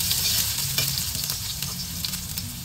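Garlic sizzles and crackles steadily in a hot pan while being stirred, a close, continuous frying hiss with occasional scraping taps throughout.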